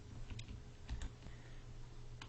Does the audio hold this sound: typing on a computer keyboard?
yes